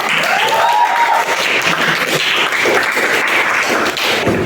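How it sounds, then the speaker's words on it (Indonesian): A classroom of students applauds together in a continuous, fairly loud burst of clapping that lasts throughout. "Oke, tepuk tangan dulu untuk semuanya."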